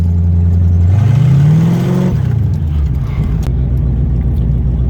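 Manual car pulling away from a stop light, its engine rising in pitch as it accelerates through first gear, then easing off into a lower, steadier hum. Close and loud, with no speech.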